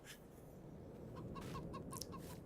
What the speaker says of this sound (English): So we've got the chickens there, and I built a shed.